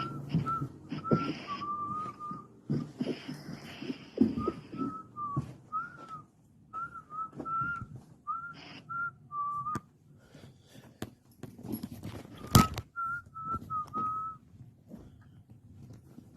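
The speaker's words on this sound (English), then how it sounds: "I think that's him whistling." Someone whistles a wandering tune in short repeated phrases, fairly close, with rustling and a few knocks underneath and pauses between phrases.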